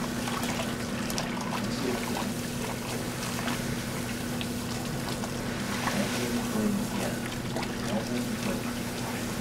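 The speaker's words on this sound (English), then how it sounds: "you just want to mix as you stir like this so it doesn't get any clumps." Malt extract is stirred into brewing water for a homebrewed pale ale, a steady swirling, sloshing liquid wash with a low constant hum underneath, close and continuous without speech.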